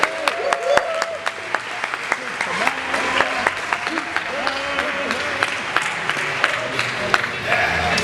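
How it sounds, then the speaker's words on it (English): An audience at a magic camp awards ceremony claps steadily for a winner, a sustained crowd applause with sharp individual claps, while voices talk and call out over it. "Big round of applause for Jude."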